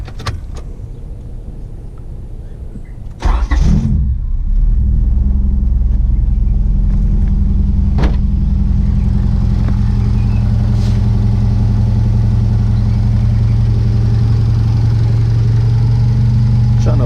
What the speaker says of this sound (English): I need to go ahead and start the car.